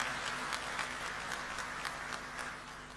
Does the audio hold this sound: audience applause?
yes